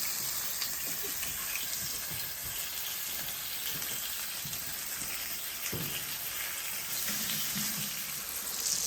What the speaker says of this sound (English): Wow, listen to that sizzle.